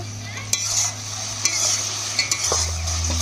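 Potatoes for a stingray fish curry sauté in a pan, with a steady low sizzle and occasional scraping stirs, close and moderately loud, no talking.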